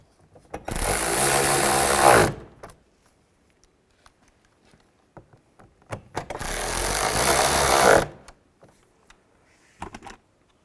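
A power driver tightens screws while a side mirror is fitted to a 2005-2015 Nissan Xterra, with two loud whirring bursts of about two seconds each, separated by quiet gaps and a few small clicks and handling noises.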